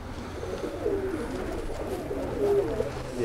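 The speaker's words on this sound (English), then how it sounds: "I had probably about 600 birds at one time in this backyard here with a big 40-foot loft" Pigeons coo softly in a large 40-foot backyard loft, low murmuring calls repeating over a busy background of many birds.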